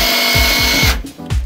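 A power drill countersinks a screw hole in wood during a boat windlass restoration, whirring in short bursts that start and stop, close and steady with no voices.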